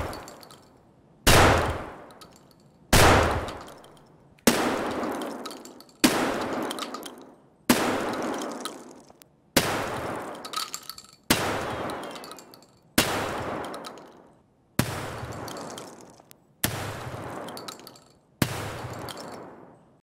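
Twelve single gunshots fired indoors in Escape from Tarkov, each a sharp loud crack with a short echoing tail, spaced evenly about one and a half seconds apart.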